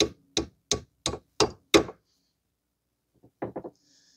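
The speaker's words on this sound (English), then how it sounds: "So we are going to use the hammer to top this." Hammer blows knocking the front lower control arm bolt out on a 2006 Mazda 3 2.3, six sharp evenly spaced metallic taps, a pause, then a quick cluster of three lighter taps, close and loud.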